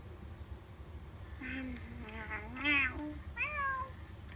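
A FurReal Friends Bootsie interactive toy kitten gives a few short, high, gliding electronic meows, up close, one after another over a faint background hum.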